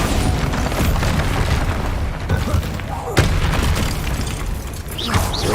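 A Bombarda blast spell goes off in Hogwarts Legacy, a dense rumbling boom over a busy game soundscape, with a sharp burst near the middle and a voice speaking over parts of it.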